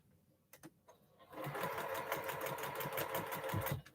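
A sewing machine runs steadily while stitching a quilt seam at a 1/4 inch seam allowance, with a few brief clicks first and then a continuous, fast, close-up mechanical whirr.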